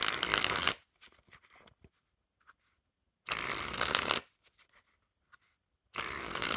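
A deck of Silver Luxury Noc playing cards riffle shuffled three times, each a loud, close, crisp flutter about a second long, with faint card handling between.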